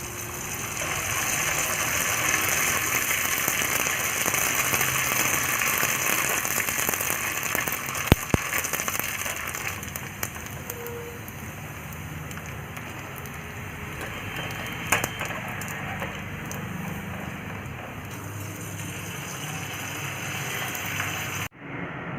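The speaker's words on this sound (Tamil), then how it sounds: "இப்போ நம்ம வறுத்து பார்ப்போம்." Sun-dried murukku vathal frying in hot oil, giving a steady, dense sizzling hiss that continues evenly throughout, with occasional small clicks and pops.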